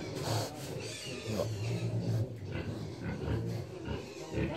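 Piglets grunt repeatedly at close range, with low snuffling oinks and some rubbing and rustling noise in rural Na Hang, Tuyên Quang.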